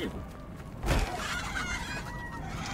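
Chickens cluck in the video game Tom the Postgirl, quiet choppy bird calls with a brief louder burst partway through, set against a faint busy background.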